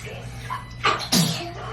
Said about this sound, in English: She's like sneezing like crazy.